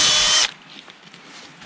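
A power drill bores through a plastic greenhouse end cap, a loud steady whine for under half a second that then cuts off, leaving faint rustling.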